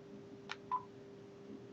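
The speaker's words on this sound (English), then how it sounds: "I'm going to dial the number right now" Two short, faint dialing tones sound on a Google Voice line, one brief beep then another slightly longer, over a low steady hum with no talk.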